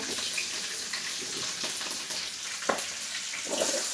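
Curry leaves and green chili fry in hot oil for a fish curry, a dense steady sizzle with a few sharper crackles and spatters close by.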